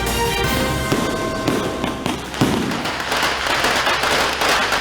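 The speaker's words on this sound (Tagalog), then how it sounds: "Fireworks display and fire incident." Dense crackle and popping of fireworks and firecrackers during year-end festivities, a continuous loud barrage of bursts and snaps with several sharper booms standing out.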